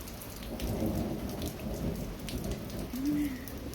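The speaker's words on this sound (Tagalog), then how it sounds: "Nakulog. Tapos, lakas pa ng kidlat" Heavy rain pours steadily in a steady hiss, with low rumbles of thunder rolling underneath throughout and a brief tonal sound near the end.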